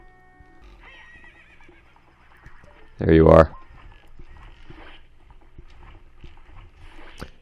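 A horse neighs once, loud and brief, in the video game Ocarina of Time, rising over quiet game sounds and someone talking around it.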